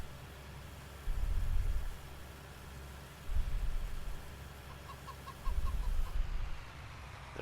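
Chickens in the video game Farming Simulator 19 cluck in three short, soft bursts spaced a couple of seconds apart over a low, steady background hum.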